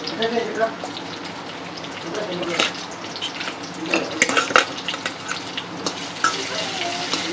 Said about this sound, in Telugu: టమాటా ముక్కల్ని మంచిగా ఫ్రై చేసుకుంటున్నాను